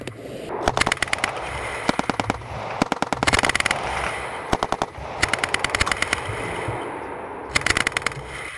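A Coast Guard mounted automatic weapon fires during target training in several rapid bursts, loud and close, with short gaps between strings of rounds and no speech.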